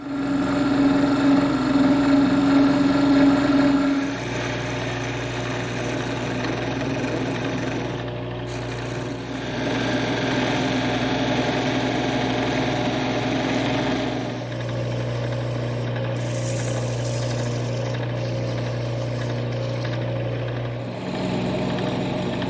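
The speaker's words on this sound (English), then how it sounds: "Using a parting tool, now I can cut that deep relief area" A wood lathe hums steadily while a parting tool cuts a deep relief into spinning wood for a coffee-table leg, the pitch and cutting hiss shifting as the tool bites in and eases off.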